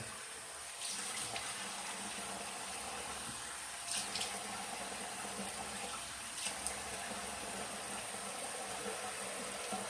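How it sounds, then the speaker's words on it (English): Running water from a tap splashes steadily as a freshly shaved head is rinsed, a constant close hiss with a few brief louder splashes and no talking. "I'm gonna rinse off my head"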